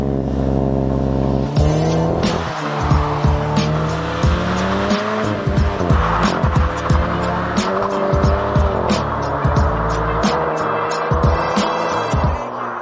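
A 2025 BMW M135i xDrive with a 2-liter turbocharged inline engine drives hard and launches, its engine note rising and falling beneath repeated loud tire squeals and skids.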